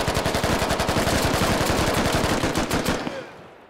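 Sustained automatic rifle fire in the military shooter Squad, a fast, loud burst of closely spaced shots lasting about three seconds before cutting off and fading.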